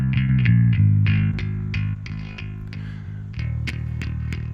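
A raw live bass guitar track recorded dry with no effects, plucked notes in a steady pattern, close and fairly loud, with a plain, thinner tone and a brief dip in level midway.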